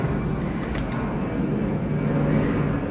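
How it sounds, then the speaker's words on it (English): An airplane flies overhead as a steady, broad roar that stays loud throughout and swells a little toward the end. "sorry about the plane everyone, I hope you can still hear me"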